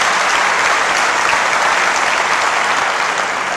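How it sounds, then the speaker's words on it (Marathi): An audience at a guidance session for students who have passed 10th and 12th grade claps steadily and loudly, a dense, even wash of applause that holds throughout. "म्हणून जोरात टाळ्या वाजल्या पाहिजे, मरेल वाणी नाही"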